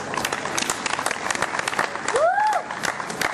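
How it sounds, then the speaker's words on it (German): A crowd claps for the CSI Dance Crew at a live show. The applause is dense and steady, with a brief rising and falling whistle near the end. "Ruhig schon mal einen Applaus"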